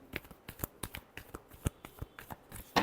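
Tarot cards being shuffled by hand, a rapid series of soft riffling flicks and taps close up, repeated in bursts with a sharper snap at the end.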